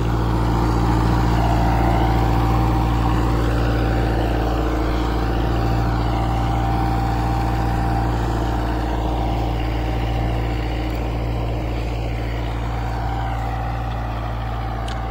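A Kubota 4x4 tractor in a field pulls an 11-tine cultivator and a 14-disc harrow together at about 2000 rpm. Its diesel engine gives a steady, loud, close drone that holds for the whole stretch, with no one talking.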